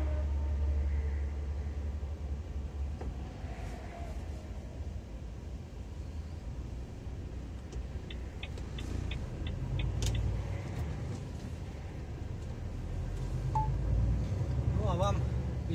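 A car drives along an Italian road toward a roundabout, its steady low engine and road rumble continuous throughout, with faint clicking ticks partway through and a brief chirp near the end.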